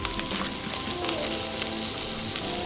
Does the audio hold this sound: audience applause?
no